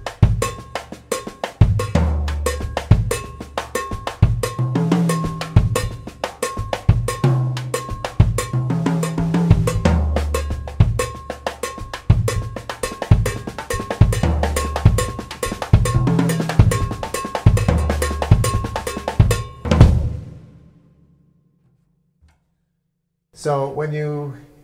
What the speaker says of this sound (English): And when I hit that cross stick on the cowbell, I get a cowbell sound as well.